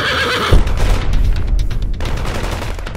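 A horse whinnies sharply and then comes crashing to the ground amid gunfire in a Western shootout, with a heavy thud followed by rough scuffling and bursts of noise.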